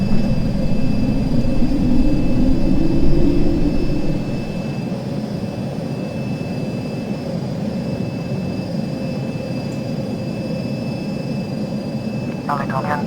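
BAC 1-11 jet climbing out after takeoff in a flight simulator game, departing Gatwick: a steady, loud engine roar holds throughout, swelling slightly early on, then settling into a continuous drone.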